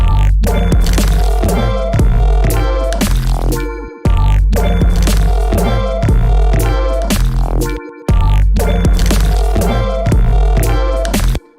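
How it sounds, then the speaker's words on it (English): A looping electronic drum pattern with heavy kick and snappy hits, loud and dense, repeating in three bars with brief gaps between them. "Just the drums, right?"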